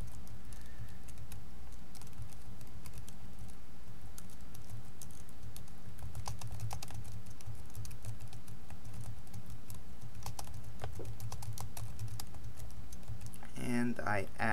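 A computer keyboard being typed on to fill in a short description, with steady, fast clicking keystrokes under a constant low background hum, ending in a few louder clacks.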